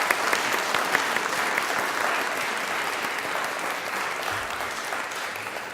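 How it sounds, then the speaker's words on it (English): Sustained applause from a large audience after a keynote address at a 2014 college event, a dense, steady wash of clapping that holds evenly throughout and tapers only slightly toward the end. "I'd like to give a round of applause for our speaker"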